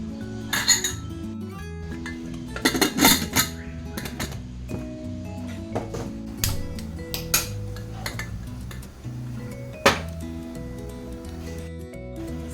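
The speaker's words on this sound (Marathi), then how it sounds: "स्वतः लावून घेणार आहे कुकर" A pressure cooker being set up, with scattered clinks and clatters of steel pots, lids and metal utensils, close by and irregular throughout.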